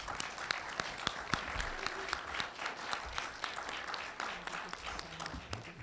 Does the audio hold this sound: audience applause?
yes